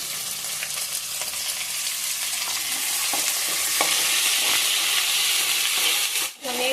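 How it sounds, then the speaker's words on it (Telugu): Ginger garlic paste sizzles in hot oil in a frying pan, a steady close hiss with scattered stirring scrapes that builds slightly louder midway, made while cooking a yogurt chicken curry. "ఇప్పుడు అల్లం వెల్లుల్లి పేస్ట్ వేసుకుందాము"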